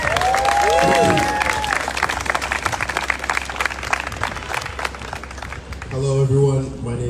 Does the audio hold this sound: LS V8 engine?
no